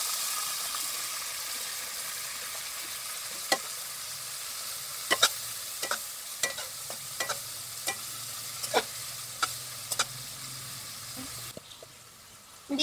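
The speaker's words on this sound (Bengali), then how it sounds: "এখন সামান্য জল দিয়ে দিচ্ছি" Fried onion with chili, cumin, ginger and garlic paste sizzling in a pan after a little water goes in, a steady hiss broken by a series of sharp spatula scrapes and taps, with no voices.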